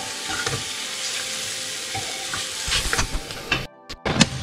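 Onions with pepper powder frying in a pan for mutton paya leg soup, a dense close sizzle with stirring scrapes, ending in a few abrupt gaps and knocks as the pan is handled.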